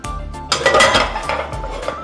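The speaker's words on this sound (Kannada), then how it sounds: "ಈಗ ಈ ಕಡೆಗೆ ಒಂದು ಪಾತ್ರೆ ಇಟ್ಕೊಂಡು" A metal cooking pot is set down on a kitchen stove in a cooking show, making a loud clatter of clinks and knocks over about two seconds, with no talking.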